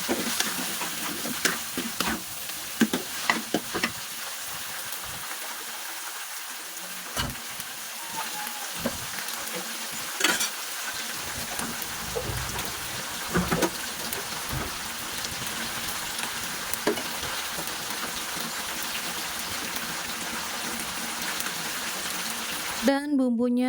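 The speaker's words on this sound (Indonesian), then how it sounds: "Kita tumis sampai harum bumbunya ya teman-teman." Spice paste for opor gori sizzling and being stirred in a pan, a soft crackling hiss with scattered scraping clicks throughout, fairly quiet.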